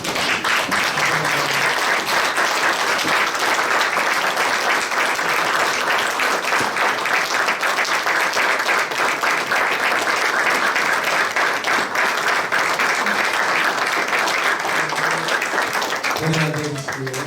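A standing congregation at a church presbytery assembly and ordination service gives the pastor sustained, thick applause, loud and unbroken for many seconds before fading slightly at the close.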